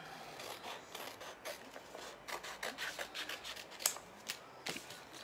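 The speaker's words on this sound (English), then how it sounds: "Those are my transfer trimmers that I just used to cut this apart" Transfer trimmers slice apart a Chalk Couture chalk transfer sheet along its lines, giving soft, quiet rasping cuts in quick irregular strokes with no talking.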